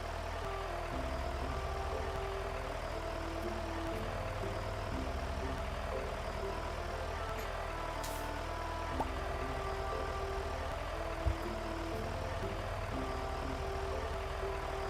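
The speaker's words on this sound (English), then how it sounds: "I just don't want to get off my tractor." A small farm tractor in the video game Stardew Valley runs with a steady, low engine drone throughout, quiet and continuous with faint game sounds on top and no talk.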